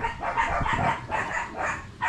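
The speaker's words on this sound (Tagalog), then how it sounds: "Yung mga aso na yan pag maingay." Dogs bark in a few repeated bursts at moderate distance, in a fairly steady rhythm against a faint background.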